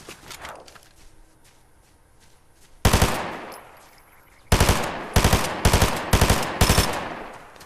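Gunfire in a video game comes as loud, close automatic bursts. A single burst is followed by a pause, then several rapid bursts in quick succession over a faint background.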